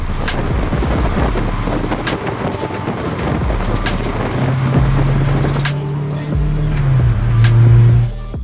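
A Volkswagen GTI engine runs steadily under loud wind buffeting, with a low humming drone that holds and then shifts pitch near the end.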